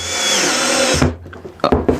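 A power drill drives a screw into a wooden cabinet door installation jig with a loud, steady whir for about a second, then stops, followed by a few close knocks and rattles of wood.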